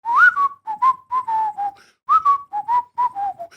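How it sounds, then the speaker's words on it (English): A person whistles a TV show theme tune, two clear melodic phrases of short rising and falling notes with a brief pause between, close and alone with no other sound. "So, you did that whistle right there?"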